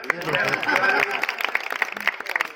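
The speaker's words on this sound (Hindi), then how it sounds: "बिहारी लाल की एक बार बजा दो फिर ताली" Devotees clap in steady rhythm during a Kartik prabhat pheri devotional procession, a quick run of bright claps mixed with voices singing and talking.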